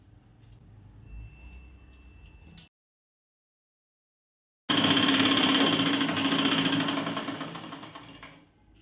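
A sewing machine stitching a blouse side seam, a loud, close, steady mechanical whir that starts, breaks off into silence, then runs again in a longer continuous burst before slowing to a stop.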